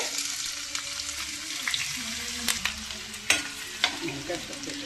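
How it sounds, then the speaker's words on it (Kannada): Chopped onions frying in oil in a pan for a country-style stuffed brinjal curry, with a continuous close sizzle and several sharper scrapes from stirring, and no talking. "ನೋಡಿ ಗೈಸ್, ಇವಾಗ ಫ್ರೈ ಆಗ್ತಾ ಇದೆ."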